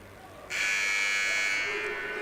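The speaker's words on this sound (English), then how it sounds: "Buzzer signals the end of stoppage time." A loud, steady electronic buzzer marking the end of stoppage time at an ice skating stadium kicks in and holds for well over a second against a background of low room noise.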